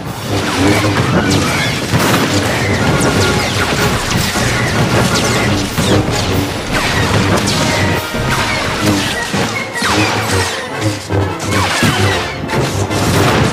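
In Star Wars: The Old Republic, a Jedi Consular's Project ability slams into a Mandalorian enemy with loud crashing impacts and thuds in a dense, continuous battle mix of blasts and effects.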